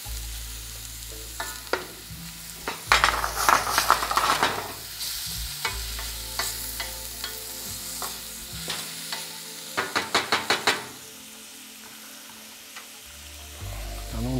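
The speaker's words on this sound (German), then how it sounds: "schön anschwitzen, schön anbraten in den Speck" Bacon sizzles and crackles steadily in a pan, with chanterelles about to be added, with occasional scraping and stirring clatter from a utensil rising above the frying.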